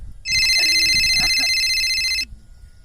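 A telephone rings with a steady, loud electronic trill for about two seconds, then stops; faint background voices murmur underneath.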